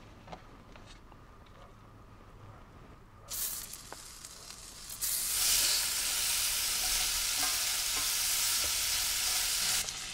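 Finely shaved meat frying in a pan in a minivan: quiet kitchen noise at first, then a sudden sizzle that swells into a loud, steady hiss until the end.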